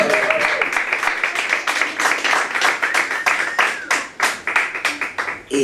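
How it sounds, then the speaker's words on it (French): Applause at a live concert as a guest performer is introduced, a steady patter of clapping hands at moderate level that grows more uneven and sparse toward the end. "Sous applaudissements."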